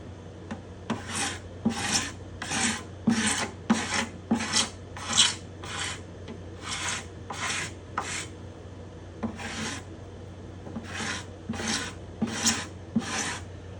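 A hand scraper working the bindings and purflings on a spruce guitar top, making a series of short, crisp rasping strokes in an even rhythm, close and clear with brief pauses between bursts.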